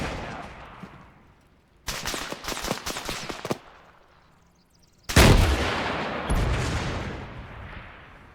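Gunfire in the Antistasi combat game: a sharp burst of rapid shots around two seconds in, then a louder blast with ringing, rumbling decay that fades slowly, with quiet gaps between.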